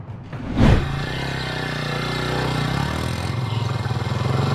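A motorbike engine idles steadily and close by, a low continuous rumble that opens with a brief louder burst and then holds an even drone, with no one speaking.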